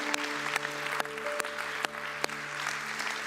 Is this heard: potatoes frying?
no